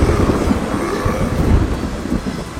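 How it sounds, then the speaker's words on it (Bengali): A thunder strike rumbles through steady rain in a village setting, a dense, continuous low roar that holds loud for the whole stretch with no break or separate clap. "অন্ধকারে খানিকটা চোখ সয়ে আসার পর হঠাৎ বাজ পড়ল।"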